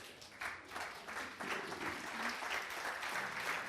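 Audience applause at a Slovenian comedy or talk event, a steady wash of clapping from many hands that swells after the first half second and holds at an even level throughout, with no voices over it.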